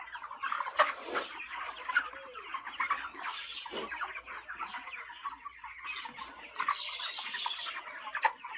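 Chickens on a poultry farm cluck and call in an overlapping, busy chorus, close and fairly soft, with bursts of sharper squawks scattered throughout and no talking.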